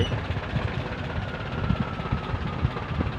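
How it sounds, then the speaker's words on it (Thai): Farm tractor engine running nearby at a banana loading site where a truck is stuck, a steady low rumbling drone with rhythmic thumping pulses and no voices. "รอรถไถไปดันครับ นี่ครับ รถไถ"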